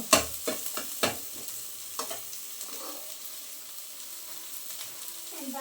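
Mutton frying in a pan with a green chilli, a quiet sizzle broken by several sharp scrapes and knocks of a spoon against the pan early on, then softer intermittent stirring.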